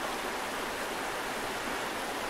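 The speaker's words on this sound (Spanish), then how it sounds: "el agua suena muy fuerte" Rushing water in the game Hue / Pine, a loud, steady, hissing flow that fills the whole moment without any break or voice.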